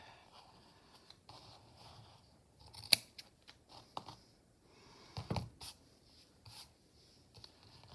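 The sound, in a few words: scissors cutting yarn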